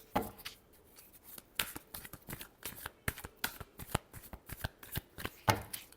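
A deck of tarot cards being shuffled by hand, a rapid run of crisp riffling snaps and slaps in irregular bursts, close and clear, with no one talking.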